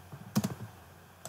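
A short burst of a few quick computer keyboard keystrokes, close and fairly quiet, followed by a single faint click.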